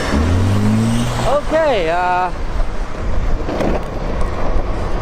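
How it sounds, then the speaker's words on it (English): An electric Juice skateboard rolls along with a loud, steady rumble and wind noise throughout, while a voice talks briefly over it near the start. "this is the initial ride of the Juice board"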